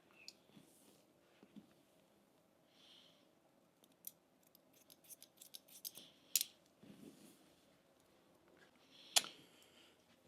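Barber's scissors snip through a man's classic medium-length hair in a quiet room, giving soft, close, crisp cuts that come in short bursts, a run of quick snips in the middle and a sharper pair near the end.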